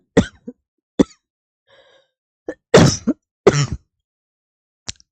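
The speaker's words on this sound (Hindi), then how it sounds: "देखो ऐसे खांसी हो रही, इसने नाक में दम कर रखा है" Close, dry coughs and throat clearing in several separate bursts, with quiet gaps between them and a faint murmur in one pause.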